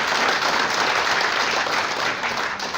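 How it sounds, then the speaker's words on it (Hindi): An audience claps steadily at an indoor seminar, dense and loud applause filling the whole moment without a break. "दिल्ली वाले ताली बजाइए"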